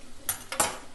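Chicken pieces drop into a pan for a chicken roast, two quick clattering metallic hits with a bright rattle, close and sharp, lasting under a second.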